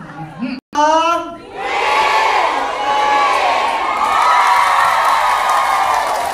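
A crowd erupts in loud cheering and shouting with applause mixed in, a sustained roar of voices that swells and holds near the listener after a brief pause.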